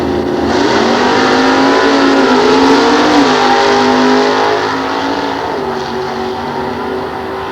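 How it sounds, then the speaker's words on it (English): A 390 cubic inch Chevrolet drag racing car at a nostalgia drag meet at Sears Point: a loud, sustained engine roar that holds steady throughout, then eases slightly toward the end, with no talk. "390 cubic inch Chevrolet."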